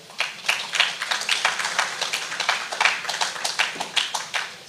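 Sparse audience clapping greets a health-rights official at a public forum in Trujillo, a few hands tapping in a loose, uneven rhythm, fairly close and moderate in level.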